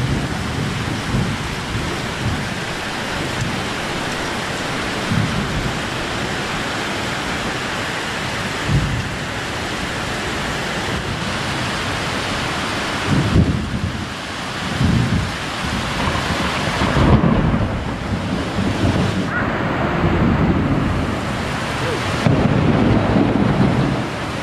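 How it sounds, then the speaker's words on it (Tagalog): A thunderstorm with steady heavy rain and repeated rumbles of thunder, some close and loud, rolling in and out over about twenty seconds, with no talking. "thunderstorm mga kalalamog. Lakas sa mga kidlat."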